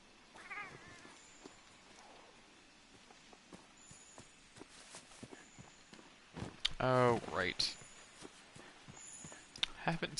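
A cat companion in Monster Hunter World gives a clear, rising-and-falling meow in the middle of game noises, with soft footsteps, thumps and a few faint chirps around it.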